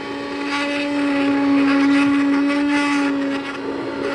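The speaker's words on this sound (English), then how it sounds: "we want to get the emulsion blender and blend those up to a nice puree" An immersion blender purees tomato soup in a pot, a loud, steady motor whine with a churning, slurping wash that swells slightly mid-way, alone with no talk.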